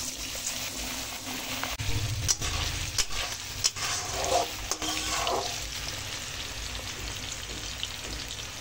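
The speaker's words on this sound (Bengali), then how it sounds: "আলুগুলো ভাজা হয়ে গেছে" Potato pieces fry in hot oil in a kadai, sizzling steadily up close, with a few sharp clinks and scraping stirs in the middle before the bubbling settles into an even hiss.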